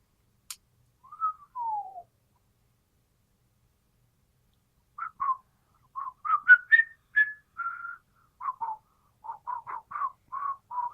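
A person whistles indoors, one rising and falling glide and then a run of short, choppy broken notes, moderately close and with no talking.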